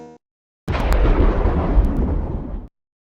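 A loud, rumbling thunder crash, used as a sound effect, bursts in suddenly and rolls on for about two seconds before cutting off abruptly, heard alone after a short tonal blip.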